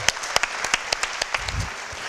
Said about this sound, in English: a round of applause to Oliver that's presented by LRT